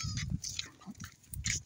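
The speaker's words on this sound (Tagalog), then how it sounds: "Ito yung kambing namin, guys." A goat at a house bleats close by in short, wavering cries, a couple of brief calls with quiet gaps between them.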